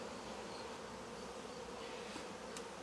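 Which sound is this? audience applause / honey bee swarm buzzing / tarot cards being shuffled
honey bee swarm buzzing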